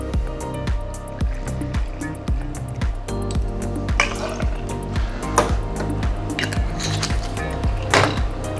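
Dry gin being poured for a gimlet, a trickling, gurgling liquid flow with rhythmic glugs and drips, close and steady for several seconds.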